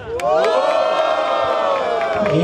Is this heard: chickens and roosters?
no